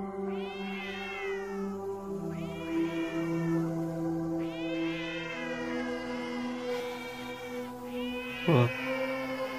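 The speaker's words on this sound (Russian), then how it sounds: "Какие-то кошки такие, мякут." Several cats meow in long, wavering cries one after another in a horror game corridor, fairly loud and drawn out, with a low ambient drone underneath.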